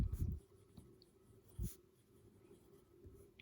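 Fountain pen with a stiff, not very wet nib, inked in turquoise, scratching across paper in a few faint, brief strokes, quiet and close with soft pauses between marks.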